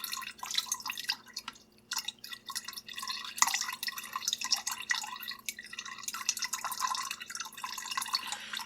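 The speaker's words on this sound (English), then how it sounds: "press on the rice a bit to get more of the liquid out" Homemade rice wine liquid dripping from pressed rice during racking, a dense, continuous patter of close drips and trickles at fairly steady loudness, heard alone with no voices.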